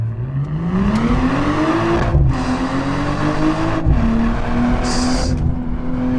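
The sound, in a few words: car engine and exhaust accelerating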